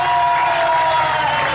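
Loud crowd applause and cheering for the first contestant at a yacht party on San Andrés island, a dense wash of clapping with a steady tone running underneath, brief and unbroken.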